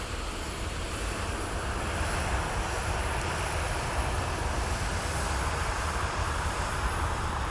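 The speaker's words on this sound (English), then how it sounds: "Here's American Airlines 894. It's headed to the Metroplex tonight to Dallas, Fort Worth. So they will depart off the west runway at MSP" American Airlines flight 894 to Dallas–Fort Worth, a jet departing runway 17 at Minneapolis–Saint Paul airport on a freezing winter night, rumbles with a steady broadband engine roar held throughout.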